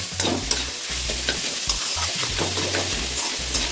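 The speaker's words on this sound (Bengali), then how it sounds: "এবার এটা দিয়ে ভাজা ভাজা করে নামিয়ে নেব।" Close sizzling of banana stem frying in a pan, with scraping stir strokes and low clunks of a utensil against the pan.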